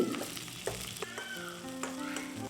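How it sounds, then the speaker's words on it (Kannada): Garlic, mustard seeds, cumin, curry leaves, onion and green chilli frying in hot oil, a steady close sizzle with crackling pops and a few stirring scrapes. "ಸ್ವಲ್ಪ ಗ್ರೀನ್ ಚಿಲ್ಲಿ ಆ್ಯಡ್ ಮಾಡ್ಕೊಂಡು ಫ್ರೈ ಮಾಡ್ಕೋತಾ ಇದ್ದೀನಿ"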